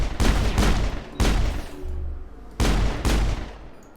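Gunshots in Mass Effect ring out in four sharp, loud paired bursts, each fading into a short rumbling tail before the next volley, with no talking.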